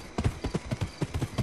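Horse hooves clip-clop in a Wild West video game, a quick, even run of about seven sharp hoof beats in a second and a half, close and clear.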